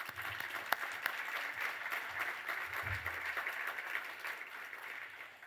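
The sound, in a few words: audience applause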